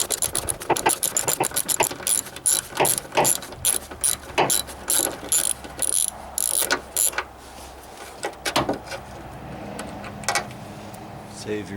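A 12mm ratchet wrench clicks in quick, steady bursts while tightening the hood lift support bolt on a 2000 Toyota Camry XLE 3.0L V6. The close, crisp pawl clicking thins out and stops near the end.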